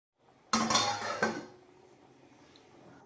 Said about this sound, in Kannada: ಪ್ಲೇಟ್ನ ಓಪನ್ ಮಾಡ್ತಾಯಿದ್ದೀನಿ ನಾನು ಇವಾಗ.